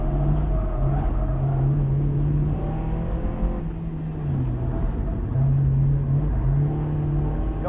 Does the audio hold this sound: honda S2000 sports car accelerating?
yes